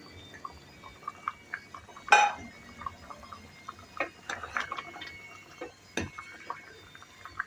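Scattered metallic clinks and scrapes of a utensil stirring a pot of white bean stew with meatballs, irregular and close, with one louder clatter midway.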